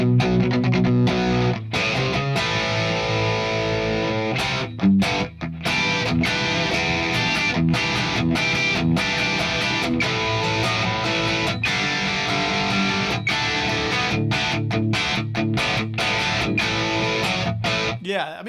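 Electric guitar through a Fractal AM4 preset plays a busy, driven, continuous riff with crunchy distortion and sharp picked attacks, loud and upfront throughout.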